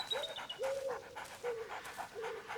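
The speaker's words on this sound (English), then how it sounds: "Puppy!" A puppy panting close up in quick rhythmic bursts, with thin high whining squeaks threaded through the breaths.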